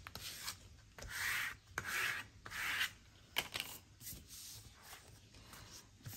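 Paper being pressed and rubbed flat by hand to glue it down in a tag book craft project, several close, dry swishing rubs in quick strokes, quiet, with no talking.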